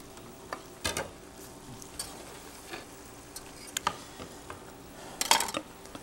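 Food sizzling and browning in a pan, a faint steady sizzle broken by scattered clicks and clinks of a utensil stirring against the pan, with a louder clatter near the end.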